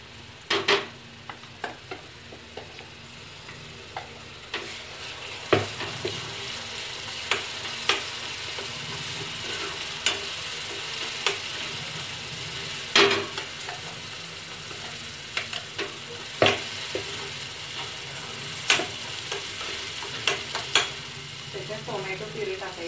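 Ground masala frying and being stirred in a pan for fish curry, a soft continuous sizzle broken by repeated sharp scrapes and clinks of the spoon against the pan, with occasional talk.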